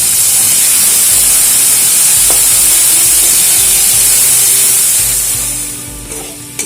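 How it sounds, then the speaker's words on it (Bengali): Soaked chickpeas and peanuts fry together in oil, making a loud, dense, continuous sizzle and spatter close by that eases off near the end, with no voices. "আর এর মধ্যেই বাদামও ভিজিয়ে রেখেছিলাম আগে থেকে, বাদামগুলো দিয়ে একসঙ্গে ভেজে নেব।"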